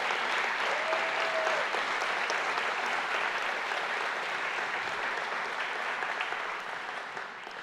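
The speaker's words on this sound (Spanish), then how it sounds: "Sí, fuerte ese aplauso a Jesús." Church congregation applauding, a steady wash of clapping held at an even level before tapering slightly at the end.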